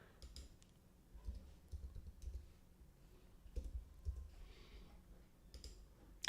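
Faint computer keyboard typing and clicking indoors, scattered soft keystrokes and clicks in irregular bursts with no talking.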